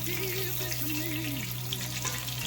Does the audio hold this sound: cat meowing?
no